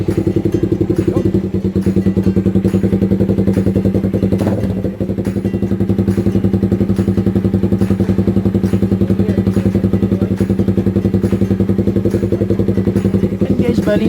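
A Suzuki Raider 150 motorcycle with a newly installed titanium exhaust and no silencer runs loud and close with a rapid, steady, throbbing rattle. It dips briefly once before settling back to the same rough idle.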